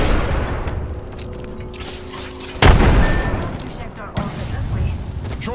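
A frag grenade explodes in the Apex Legends video game, a loud booming blast midway through amid ongoing gunfire and battle noise, with a player's voice talking over the action.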